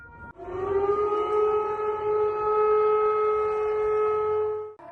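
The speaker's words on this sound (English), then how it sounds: "residents of the capital of the Russian Federation woke up to the sound of an air raid siren." Air raid siren sounding during a scheduled test of the public alert system in Moscow, a steady sustained wail heard from a distance, preceded and cut off by brief silence.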